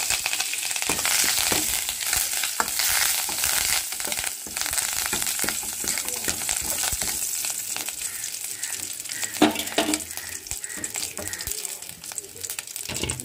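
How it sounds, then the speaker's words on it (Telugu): Tempering spices with curry leaves frying in a hot pan give a steady, dense crackling sizzle, with occasional stirring scrapes and pops heard up close. "అలా పోపు ఫ్రై అవుతున్నప్పుడు కరివేపాకు వేసుకుందాం"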